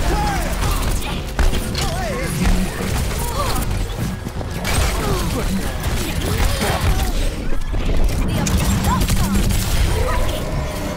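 Gunfire and mechanical clatter from the video game Overwatch as an enemy turret is shot and broken, dense continuous game action with crunchy impacts and whirring effects, loud throughout with a voice speaking over it.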